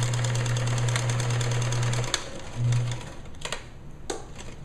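A sewing machine stitching a gown seam around a curve runs in a fast steady whir for about two seconds, pauses, runs briefly again, then gives a few single clicks as it is turned by hand.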